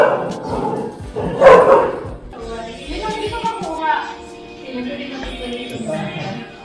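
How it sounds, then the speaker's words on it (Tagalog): A dog barks a few times nearby near the sea in La Union, with yips mixed in, while people chat and exclaim over it. "Uy, may aso!"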